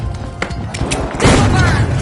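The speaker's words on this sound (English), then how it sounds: "Frag grenade out! Tossing a frag!" A frag grenade goes off in The Finals, a loud broadband blast rising about midway and rumbling on through the end, preceded by scattered thumps and game noise.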